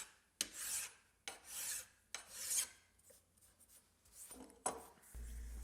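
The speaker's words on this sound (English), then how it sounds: "file the heads off of all those little fixturing screws" A hand file rasping the heads off small metal fixturing screws, heard as several short, close scraping strokes in an uneven rhythm with brief pauses, then a low bump at the end.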